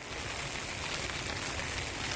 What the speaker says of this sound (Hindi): देख सकते हैं आप बारिश कितनी हो रही है।